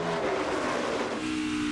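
NASCAR Xfinity Series stock cars race at Kentucky, a loud, sustained engine roar from a pack of cars at close range.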